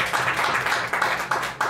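A church congregation claps together in praise of the Lord, a steady crowd applause with rhythmic bursts recurring through the moment, moderately loud and close.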